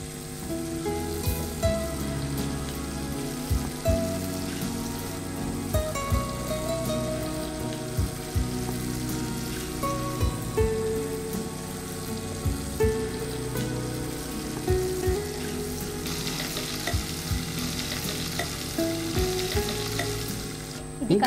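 Marinated mutton going into a hot pan and frying in a loud, continuous crackling sizzle, with stirring scrapes throughout and no voices.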